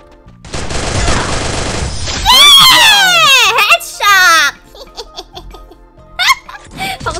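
Gunfire from a machine gun and a pistol in the shooting video game Free Fire opens as a dense burst of rapid shots, followed by loud, excited voices and laughter that take over the rest of the clip.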